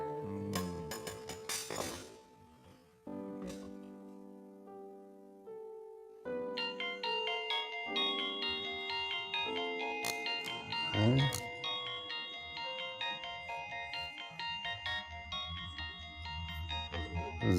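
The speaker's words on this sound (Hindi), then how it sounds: "ज़किया का फोन है" A mobile phone ringtone plays a bright electronic melody in a household scene from a Pakistani drama, with a brief pause before the tune repeats over quiet background sound.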